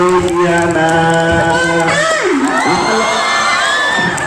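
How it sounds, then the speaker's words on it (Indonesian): A young audience at a teen preachers' competition cheers and shouts loudly and continuously, high voices whooping together in a steady roar. "Tepuk tangan dulu untuk Mbak Luciana"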